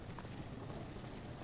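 Rain falls in the survival video game No One Survived, a soft, continuous hiss of pattering drops with a low rumbling undertone, steady and fairly quiet, with no voices.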